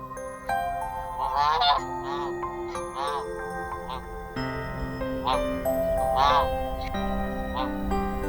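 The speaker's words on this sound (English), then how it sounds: "the Canada goose" Canada geese honk on a lake in winter, a series of loud nasal honks in irregular bursts, close and clear over a soft background hum.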